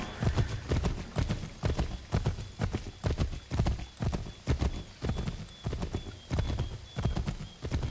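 A horse gallops in Assassin's Creed 3, its hoofbeats loud, close and steady in a quick rolling clip-clop rhythm throughout, with a brief whinny and no talking.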